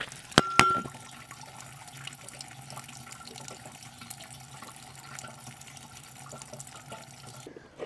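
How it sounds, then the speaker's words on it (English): Engine coolant drains from a plug on an excavator, a steady faint trickle of liquid running throughout, with a couple of sharp metallic clinks near the start. "Oh, let's let that drain."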